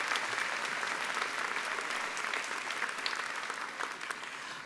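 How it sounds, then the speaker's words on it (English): Audience applause at a university scholarly excellence awards ceremony, a sustained, even patter of many hands clapping in a large room, steady and moderately loud before tapering slightly at the end. "offer a round of applause to the parents and family who are here today"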